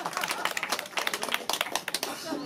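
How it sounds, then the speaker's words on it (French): An audience at an outdoor evening gathering claps vigorously, a dense patter of many hands sounding fairly close and steady for a couple of seconds. "On l'applaudit bien fort"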